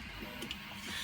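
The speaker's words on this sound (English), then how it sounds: "The printer you can hear going on in the background is another Dalek" Low, steady mechanical whirring of a 3D printer printing a Dalek quietly in the background, faint and continuous.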